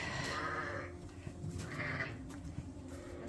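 Ewes and lambs bleating on a sheep farm at lambing time, several overlapping calls rising over a steady low background, moderately near and fairly faint.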